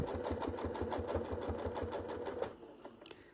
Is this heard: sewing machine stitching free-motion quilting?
yes